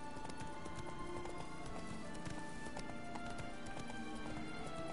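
Roach, a horse in The Witcher 3, trots with steady rhythmic clip-clopping hooves on a vineyard estate, faint and continuous over a soft ambient background.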